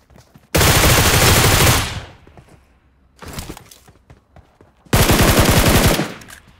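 Honey Badger rifle fire in PUBG: two long, loud full-auto bursts of rapid gunshots with a shorter, quieter volley between them, separated by near silence.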